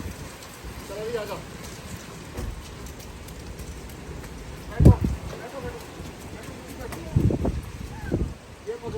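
Steady heavy storm rain patters on surfaces with a dense wash of falling water, punctuated by occasional louder thumps and drips; voices murmur faintly underneath.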